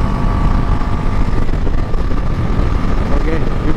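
A Bajaj NS400Z motorcycle being ridden on a mileage test: a steady, unbroken roar of engine and wind rush fills the whole stretch, loud and close, with no clear gaps.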